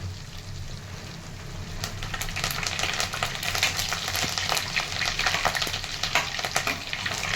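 Milk cream frying down into ghee with leaves added, giving a steady bubbling sizzle with stirring that thickens and grows louder after the first two seconds.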